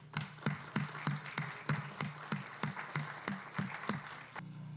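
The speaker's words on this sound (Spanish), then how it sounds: "Un aplauso para ella." Rhythmic, evenly paced clapping rises from an audience at the swearing-in ceremony of Costa Rica's new Attorney General. Clear beats come roughly three per second, close and moderately loud, then stop abruptly.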